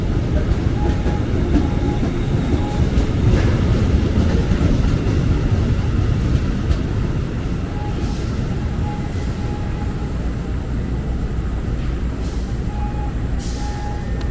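Rail noise at Manggarai station in Jakarta, where a CC 201 locomotive and a commuter train are present: a loud, steady rumble of rolling train cars with repeated short air brake hisses and a faint recurring tone.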